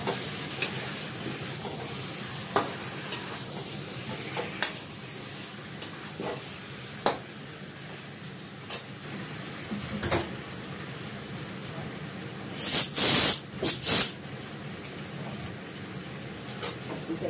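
Food sautés in a pan on a kitchen stove with a steady low sizzle, broken by sharp scrapes and taps of a stirring utensil and a loud clatter of cookware near the end. No one speaks.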